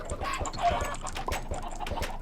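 Minecraft chickens cluck repeatedly in a busy, close-up chorus, with short rhythmic pecking-like thumps underneath and no talking.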